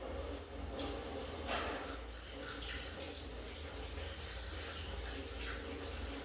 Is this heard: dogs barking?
no